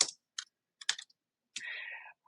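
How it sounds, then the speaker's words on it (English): A few separate keystrokes on a computer keyboard click out in an uneven rhythm, close and crisp against silence, ending in a longer rattling key press. "You can type it here."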